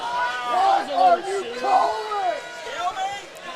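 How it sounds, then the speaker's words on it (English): Wrestling spectators at a district AA championship grappling match react with a surge of jeering, booing voices and babble after a stalemate call, the noise rising and falling in waves throughout. "Crowd not happy with that. Yeah, the crowd not real happy."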